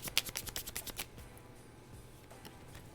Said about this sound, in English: let's go ahead and show off these expert shuffling skills